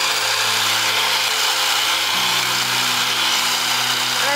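A power trimmer cutting plants, a loud, steady buzzing drone that holds through the whole clip, its pitch shifting midway as it bites into the growth.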